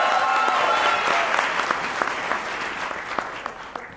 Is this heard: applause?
yes